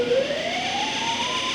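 A rising electronic siren wails steadily and loudly, a single pitched tone climbing slowly over a constant background hum.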